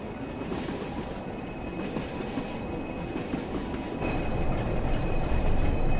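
An 80s military freight train rolls by at night in Train Sim World 6 on the West Coast line, a dense, loud rumble of wheels and wagons with faint clickety-clack, swelling steadily louder toward the end.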